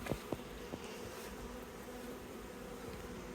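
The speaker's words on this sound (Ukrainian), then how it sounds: "Цей вулик в ньому і бджілок багатенько" A steady, faint buzz of many honey bees at a full beehive, with a continuous low hum and a few soft ticks near the start, heard from close by with no voices.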